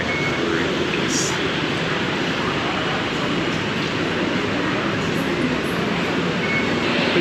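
BTS Skytrain train at a station in Bangkok, a steady, loud, continuous rumble and roar of the train running through the whole stretch, with a few faint high beeps over it.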